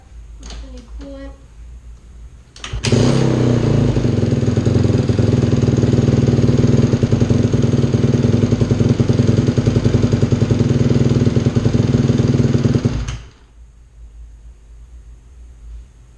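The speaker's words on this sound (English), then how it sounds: "first startup with the new coolant" A Honda CRF150R dirt bike is started after fresh coolant was added. After a few clicks, the engine catches and runs loudly and steadily for about ten seconds up close, then cuts off, leaving quiet background noise.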